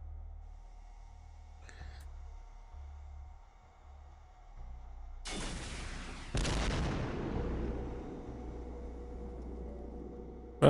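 Shotgun fire in the tactical game X-Com Files: a quiet stretch with a faint click, then a sharp loud blast followed by a second heavier blast that rumbles and decays into a lingering low roar.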